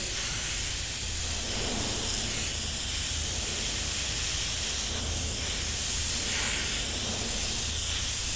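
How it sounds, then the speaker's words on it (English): Continuous airy hiss of an airbrush spraying, steady and close, with slight swells in intensity as it sweeps back and forth. "spray a bit lighter and lift it"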